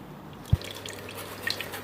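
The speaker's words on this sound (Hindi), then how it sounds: "और मैं और पानी डालूँगी ज़्यादा सा, ताकि जो है कड़ी पकती रहे" Water poured into a pot of kadhi cooking on the stove gives a single sharp splash, followed by faint drips and light liquid sounds against a quiet kitchen background.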